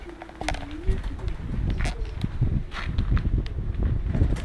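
Low, soft cooing from Strasser pigeons in a poultry yard repeats over a busy outdoor background of rustling, shuffling steps and wind.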